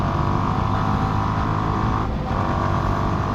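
Yamaha R15 V3 motorcycle with a modified exhaust, a steady loud engine drone with a brief dip near the two-second mark, close by and with no talk over it.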